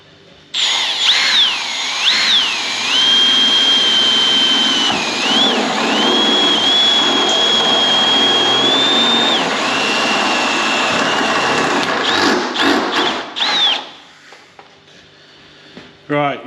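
A power drill bores through a car body panel on an MGB roadster being prepared for a full repaint, a loud whining buzz whose pitch sags and recovers under load, running steadily for over ten seconds before stopping.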